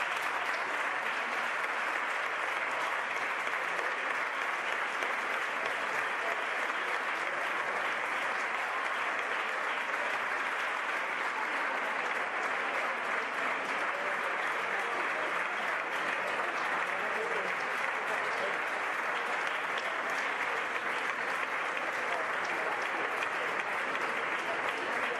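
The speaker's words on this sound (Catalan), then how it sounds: "un fort aplaudiment" Sustained, loud applause from an audience at an education innovation awards ceremony for a municipal nursery school, a dense, even wash of clapping lasting the whole stretch with no voices on top.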